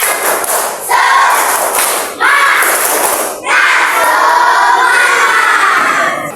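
A classroom of students claps and shouts together in a rhythmic chant, with loud bursts of clapping and voices in several waves and short pauses between them.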